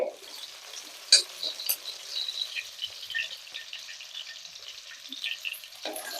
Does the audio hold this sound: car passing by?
no